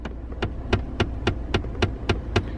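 Knocks against a loose plastic dash trim panel inside a Toyota Tundra cab, about nine evenly spaced soft thuds with a slight rattle, close and moderately loud over a low steady hum, no talking.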